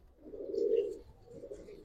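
Pigeons of the Giribaz and coloured breeds, kept as pet stock, give a soft low cooing that swells and fades over a second, then returns more faintly, with no talk over it.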